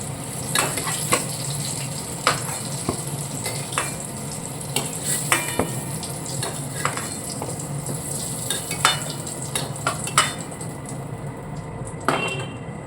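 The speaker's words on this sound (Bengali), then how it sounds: "এবার এর মধ্যে নিয়ে নিয়েছি তেজপাতা আর গোটা গরম মশলা।" Bay leaves and whole garam masala fry in oil in a pan, a steady soft sizzle broken by repeated sharp clinks and scrapes of a utensil stirring against the metal, close and without talk.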